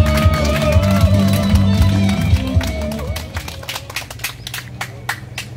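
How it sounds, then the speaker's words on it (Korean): A crowd at an outdoor protest rally in Daegu's Duryu Park breaks into scattered clapping after a voice talks, the claps loose and uneven, fairly close, and fading toward the end. "자, 우리 그래도 의원의 박수로 한번 모시겠습니다"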